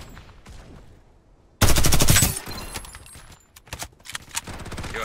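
Gunfire rings out in the battle-royale shooter Farlight 84: a loud, dense burst of rapid automatic fire lasting just under a second, followed by scattered, quieter single shots and clatter.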